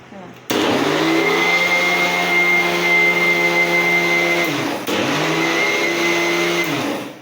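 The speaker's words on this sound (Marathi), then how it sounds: "मिक्सरला फिरून घेते मी" Mixer grinder grinding semolina for rava dosa: a loud, steady motor whine in two bursts, about four seconds and then two seconds, with a brief stop between them.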